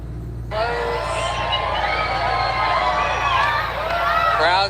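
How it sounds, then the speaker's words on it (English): Excited crowd gathered outdoors for a total solar eclipse, a loud dense swell of cheering and shouting voices that kicks in after a brief lull and stays sustained, rising again at the end. "Crowd's getting excited."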